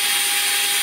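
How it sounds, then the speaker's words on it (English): A very small drill bit boring a hole through a 4L80E automatic transmission drum during a rebuild, giving a steady, continuous high-pitched grinding whine close up with no talk over it. "that's where I'm going to drill my hole through."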